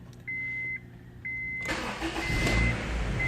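A Honda CR-V is started after two short key-reminder beeps: the starter cranks briefly and the engine catches, settling into a steady close-up idle.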